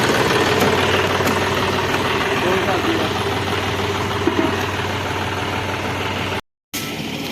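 A new tractor engine, model 5620, drones steadily at idle at a grain market with a low, constant rumble, and voices speak over it.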